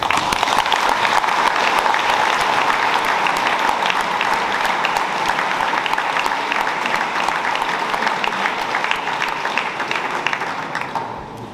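Sustained applause from a large crowd honoring a graduating promotion of gendarme cadets at a school ceremony, dense steady clapping throughout that fades slightly at the end.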